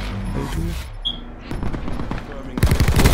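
Rapid automatic gunfire from a Peacekeeper SMG in Black Ops 4, loud bursts over busy game noise, with a heavier burst near the end and voices talking over it.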